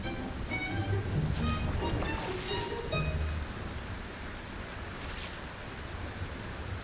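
Rain falls steadily on the city as a dense, even hiss, a little louder at first, with a few brief tonal calls mixed in early before the downpour continues alone.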